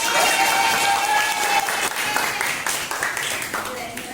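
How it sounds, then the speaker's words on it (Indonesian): An audience at a teacher coaching session claps for a participant, a dense burst of applause that tapers off while a voice speaks over it. "Tepuk tangan untuk Bapak."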